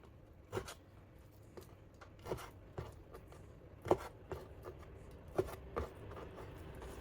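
Knife chopping raw salmon into small cubes for a poke bowl, a series of sharp taps on a board at an irregular pace, some spaced out and a few louder strikes, with soft rubbing and scraping in between.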